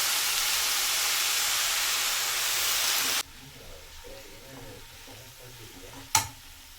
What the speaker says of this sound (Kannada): ಈ ತೆಂಗಿನಕಾಯಿಯನ್ನು ಸ್ವಲ್ಪ ಫ್ರೈ ಮಾಡ್ಕೊಳ್ತಾ ಇದ್ದೀನಿ.